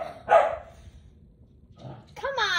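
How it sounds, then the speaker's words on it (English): A dog barks indoors: one sharp bark, a pause, then a yelping, whiny run of barks near the end, fairly close and moderately loud, with no talking. "I'm gonna get him to stop barking"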